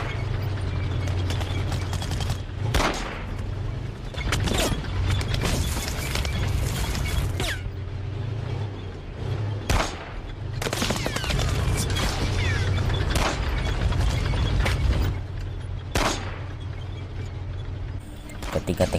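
Gunfire rings out in a Saving Private Ryan battle scene, with a wounded soldier firing a pistol at a Tiger tank on a bridge: sharp, loud shots recur at irregular intervals over a constant low rumble.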